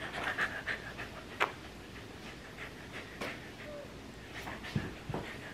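A dog pants softly and steadily at close range, rapid breaths broken by a few thin whimpers and yips, quiet overall.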